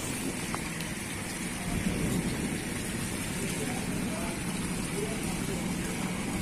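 Rain pours over a Pakistani village in a continuous broadband wash, with a faint low rumble swelling briefly partway through; the downpour stays steady and close without talk on top.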